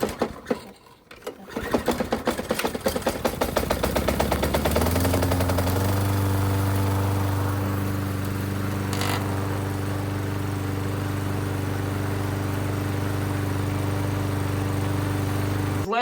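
A walk-behind lawn mower engine starts after a new spark plug is fitted: a couple of rough pull-start attempts and sputters, then it catches and settles into a loud, steady running hum close by.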